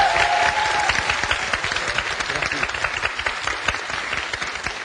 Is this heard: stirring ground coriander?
no